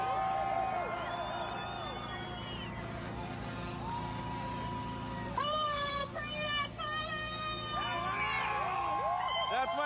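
A crowd at a trucker convoy rally in Ottawa cheers and whoops, rising in a loud burst partway through, with a voice talking over the noise before it.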